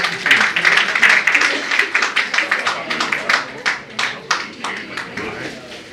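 An audience at an Urdu poetry book launch claps steadily, a dense patter of hand claps that gradually thins out.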